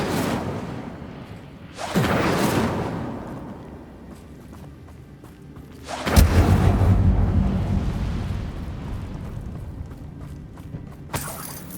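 Spell blasts from the Confringo curse in Hogwarts Legacy, heard as two booming whooshing explosions a few seconds apart, each rumbling and then fading, with lighter impacts and movement in between.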